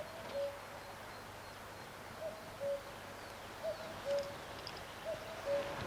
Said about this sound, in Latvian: Tas ir ūpis ar saviem mazuļiem